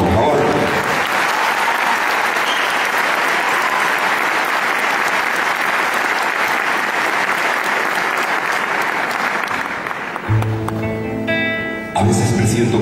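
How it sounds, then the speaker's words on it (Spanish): Sustained audience applause at a concert, loud and dense for about ten seconds before fading, after which a singer's voice and music begin. "para quien pido un fortísimo y cariñoso aplauso"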